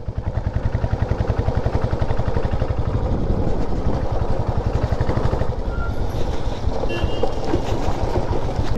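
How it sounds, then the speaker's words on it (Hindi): Train at Baripada railway station in Odisha, a loud steady rhythmic clatter of wheels over rail joints running continuously, close and dominant with no talk over it. "ये है हम लोग का बारीपदा का स्टेशन, रेलवे स्टेशन बारीपदा।"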